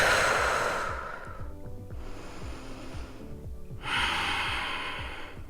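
Slow, deep yoga breaths held in bridge pose, with a long airy exhale fading into a quieter stretch and then a fresh audible breath, close and alone.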